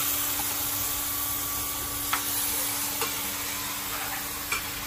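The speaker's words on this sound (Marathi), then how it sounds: "आणि आता आपलं ऍड करते मटन." Mutton frying in a pan of cooked masala made with very little oil, a steady close sizzle with soft scraping and occasional taps of the spoon as it is stirred.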